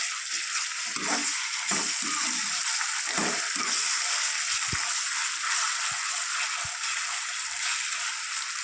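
Continuous hissing sizzle of spices frying in oil, punctuated by a few sharp clinks and scrapes of stirring.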